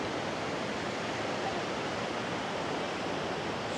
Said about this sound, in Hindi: ये जो ऊपर से आ रहा है वाटरफॉल, ये कावेरी वाटर का है।